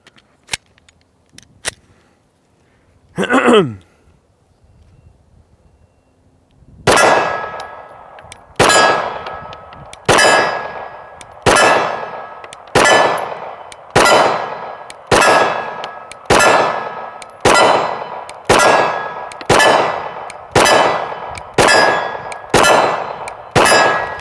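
Handgun shots clang off steel targets in a steady, evenly spaced series of loud ringing hits, each with a bright metallic decay, after a quiet stretch with a few isolated clicks and a brief whirring sound.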